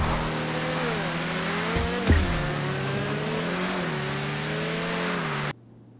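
Cars racing in GTA Online's Cayo Perico races, an engine revving and shifting pitch up and down, with a brief skid or impact midway, loud and near, cutting off abruptly before the end.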